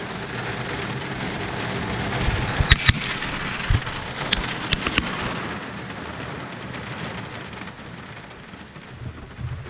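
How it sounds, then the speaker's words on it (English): Ice pellets from a hailstorm pelt the ground and a boat at a riverside campsite in Algonquin Park, a dense steady patter with a few sharper knocks and cracks standing out near the start. "You can see the little pellets of ice bouncing off the ground, and you can hear it on the boat."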